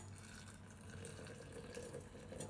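Hot dandelion tea poured slowly from a pan into a cup, a steady, soft liquid trickle lasting a couple of seconds, close by and fairly quiet with no talking.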